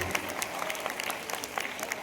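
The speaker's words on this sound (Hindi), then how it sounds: "हमें जोरदार ताली से धन्यवाद देना चाहिए।" Children at a school celebration for people with disabilities at DLW St John's School clap loudly, sharp hand claps layered into continuous applause from a sizable crowd, steady throughout.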